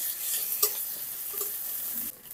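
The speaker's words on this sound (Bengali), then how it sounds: "এখন ভালো করে কষিয়ে নেব।" Onion with garlic paste and ginger-cumin paste sizzling and being stirred in a pan for a prawn and pointed gourd curry, steady close frying hiss with a few soft scrapes, no voices.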